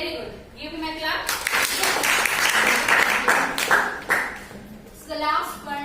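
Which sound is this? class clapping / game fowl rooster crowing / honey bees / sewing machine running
class clapping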